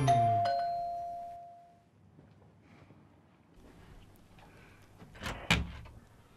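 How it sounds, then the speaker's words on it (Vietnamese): A doorbell is pressed, giving one bright electronic chime that rings out and fades, followed by quiet room tone and a few soft bumps, like a door, nearby. "Ấn chuông cửa."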